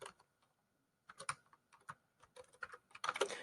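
Keys clatter on a computer keyboard in irregular bursts of quick, crisp clicks, close by, with brief pauses and a denser flurry at the end.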